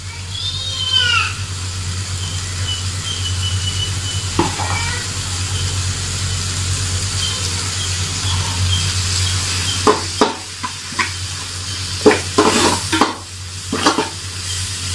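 Ginger garlic paste frying in a pan for mutton biryani, a steady sizzle under a low hum, with spatula scrapes and clinks becoming frequent toward the end; faint background voices and a child's sounds appear early.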